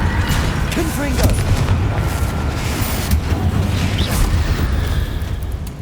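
Confringo spell explosion in the video game Hogwarts Legacy, a loud booming blast that rumbles continuously through the clip amid layered game effects.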